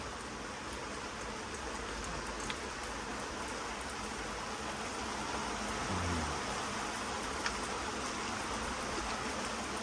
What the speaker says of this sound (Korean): 비가 정말 많이 내립니다.